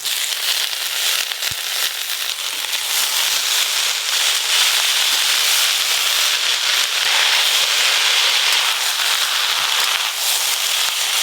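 Freshly washed leafy greens hit hot oil with a continuous loud crackling hiss that holds steady and close throughout, with no voices.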